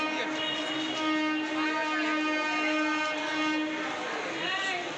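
A train enters a station with a loud, sustained horn blaring continuously over the rumble of the rails. The sound stays close and strong throughout.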